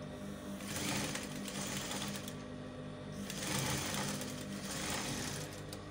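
A sewing machine stitches the armholes of a baby dress, a steady rapid mechanical chatter that runs close and continuous, with slight surges in speed and no talking.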